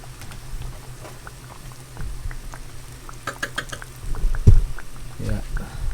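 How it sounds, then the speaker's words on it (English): Breaded pork tonkatsu frying in vegetable oil mixed with a little butter, a steady bubbling sizzle with scattered pops that grows louder toward the end, with some faint background noise. "But this is how it looks like when you fry it."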